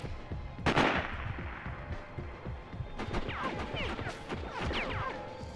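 Gunfire in the Sniper: Ghost Warrior video game: one sharp shot is followed by a steady crackle of rapid shots and impacts under continuous background noise.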